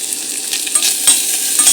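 Chopped calabresa sausage and bacon fry in a pan, a bright, steady sizzle with crackling spatter and soft scraping as the pieces are stirred, close and fairly loud.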